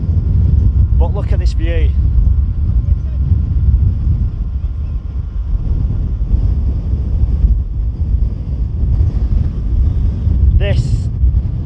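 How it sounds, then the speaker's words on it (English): Strong wind buffets the microphone at a cliff-top lookout above Cable Beach near Albany, Western Australia, a constant low roar running throughout with a person talking over it. "It's pretty windy,"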